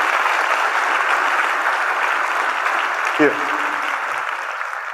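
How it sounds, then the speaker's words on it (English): Conference audience applause at an opening session, a steady dense wash of clapping throughout with a brief thump partway through. "So that's where you would applaud"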